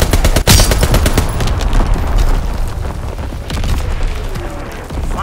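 Artillery barrage in Call of Duty: WWII on the Shipment 1944 map, with heavy booms and rapid gunfire piling into a dense, loud, continuous roar of explosions and shots.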